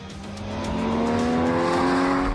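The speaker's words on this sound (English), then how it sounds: "The new Cayman GTS struts its stuff on the Circuit Mallorca" A Porsche Cayman GTS circles the Circuit Mallorca racetrack, its engine note holding a steady, loud rising drone as the car accelerates hard through a sustained pass.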